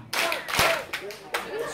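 Audience at an outdoor Korean street show clapping in unison, a couple of sharp claps standing out under a performer's talking voice.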